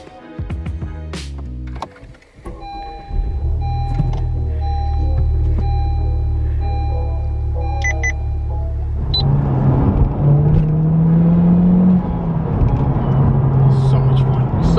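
A Honda Civic Type R starts with a few sharp clicks, settles into a steady low engine drone, then revs higher as it accelerates, loud and close.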